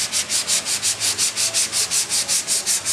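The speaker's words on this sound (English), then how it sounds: "Oh, here's a sanding pad." A hand sanding pad rubbing back and forth in a garage, a steady rhythmic scrape repeating about five times a second, close and even with no voices.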